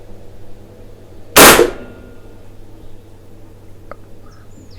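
An Aselkon MX10 5.5mm PCP air rifle fires one sharp, loud crack close by, which fades quickly into quiet surroundings with only a faint click afterward.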